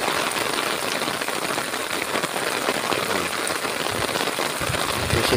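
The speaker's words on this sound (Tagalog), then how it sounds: "Yan malakas ng ulan." Heavy rain pours steadily in Tarlac, Philippines, a dense continuous hiss with pattering drops close by, no voices.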